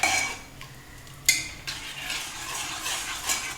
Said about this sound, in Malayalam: ഇങ്ങനെ ഇളക്കി കുറുക്കി എടുക്കണം.